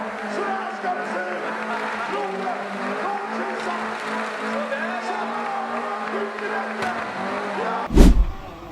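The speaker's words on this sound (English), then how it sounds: "A Bentley fitted with the legendary Rolls-Royce Merlin V12 comes alive with unmistakable force." A Bentley fitted with a Rolls-Royce Merlin V12 aviation engine of 27 liters, liquid-cooled, running with a deep, steady drone at close range, ending in a sharp loud burst.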